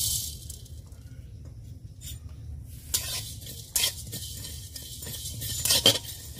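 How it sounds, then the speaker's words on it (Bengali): Coriander, fennel, cumin and black pepper are dry-roasted in a metal pan, with sparse close clinks and scrapes of a spatula breaking a quiet background. "ধনে মৌরি জিরে আর গোলমরিচ একসাথে ভেজে নেব"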